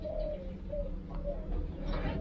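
Spotted doves in a breeding aviary give soft, repeated coos, several low rounded calls in a steady rhythm, close and moderately loud over a faint background hum.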